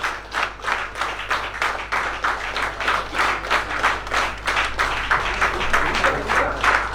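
Audience applause at an inauguration ceremony of a national federation of retired insurance field workers in India: dense, steady clapping from a crowd, continuous and fairly loud throughout, with no talk over it.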